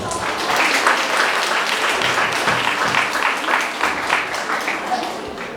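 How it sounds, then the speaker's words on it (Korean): Loud, sustained applause from wedding guests in a church ceremony hall, many hands clapping together in a dense, continuous wash. "큰 박수로 모시겠습니다."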